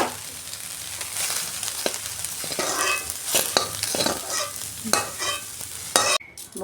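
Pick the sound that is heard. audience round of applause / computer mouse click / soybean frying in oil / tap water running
soybean frying in oil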